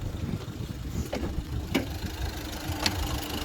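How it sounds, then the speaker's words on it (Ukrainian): A 2018 Renault Master van's 170 hp engine runs steadily at idle, a low continuous rumble with faint rattles and a couple of brief clicks, no voices. "Зараз мотор працює. Прекрасно працює моторчик."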